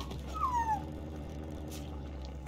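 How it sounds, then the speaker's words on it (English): A dog gives a single high, falling whimper, faint and brief over a steady low background hum with no talking. "What the dog doing?"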